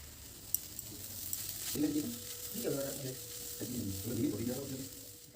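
Onion and carrot fry with salt, cumin and chili powder in a pan, a soft steady sizzle rising as the pieces are stirred in a few scraping bursts, close and moderate in level with no talk.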